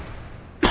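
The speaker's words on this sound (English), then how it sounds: "sorry about all the coughing" A single dry cough from an adult with allergies, sudden and loud near the end after a quiet stretch.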